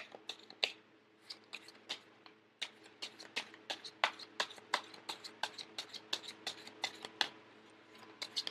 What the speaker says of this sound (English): I am going to shuffle until the first card pops out